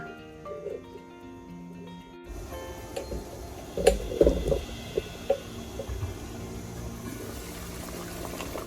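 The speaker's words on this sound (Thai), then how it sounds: "น้ำเดือดดีแล้วนะคะ" A pot of water bubbles at a rolling boil, with scattered pops and gurgles over a steady hiss. It grows busier after a quieter start.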